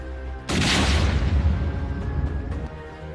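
A car packed with explosives, abandoned by militants in Pulwama, blows up in a sudden loud blast, followed by a long rumbling roar that slowly fades.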